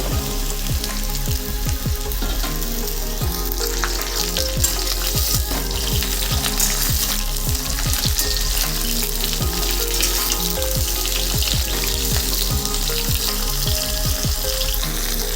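Continuous close sizzle of cut ridge gourd frying in oil, with a quick run of sharp crackles and pops throughout, loud and steady, with no voices.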